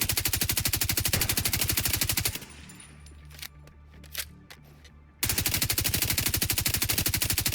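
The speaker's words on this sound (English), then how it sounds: "I can't tell what I'm firing at because he has a gun." Rapid automatic turret gunfire in The Division 2 video game, loud regular bursts of shots that stop for a few seconds of quieter scattered sounds, then resume at full pace.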